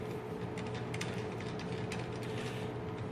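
A Swagelok fitting being tightened on a DIY gene gun for plant bombardment gives a run of small ratcheting, clicking mechanical sounds over a steady wash of background noise, close and fairly quiet.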